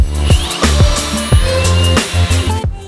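A power screwdriver drives screws into wooden frame blocks for a homemade salad spinner, giving several short whirring bursts with pauses between them, close and fairly loud, with no talking.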